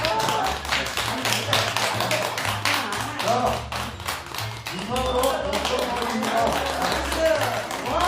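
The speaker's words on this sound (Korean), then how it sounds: "박수" A small group applauding after an award presentation during a hospital-themed pantomime rehearsal, a dense steady patter of clapping throughout with voices speaking over it.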